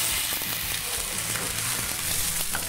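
A hot pan sizzles steadily as sherry hits it to deglaze, with a dense, continuous frying hiss and faint stirring clatter, close and unbroken throughout, with no talking.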